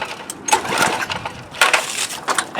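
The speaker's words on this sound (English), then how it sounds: "Make sure the pump gets to spin several revolutions." A pressure washer pump being winterized is spun through several revolutions, giving two loud, rough whirring bursts of mechanical rattling with a quieter stretch between them.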